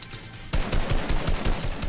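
Sniper rifle shots in a Fortnite match: after a half-second of quiet, a rapid string of sharp, loud gunfire bursts keeps cracking repeatedly through the rest, with no voices.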